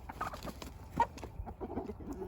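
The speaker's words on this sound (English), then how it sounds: "Poor hens." Meat-breeding hens, bred toward the Rock Cornish cross type, cluck softly and intermittently in a barnyard, a few faint low murmured calls over a quiet background rumble.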